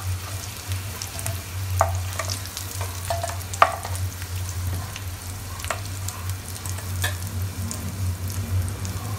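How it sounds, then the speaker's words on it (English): Boiled potatoes frying in hot oil in a pan, a steady close sizzle with occasional light clinks and stirring scrapes over a constant low hum, no talking. "so we are going to fry the boiled potatoes or uble hue aloo"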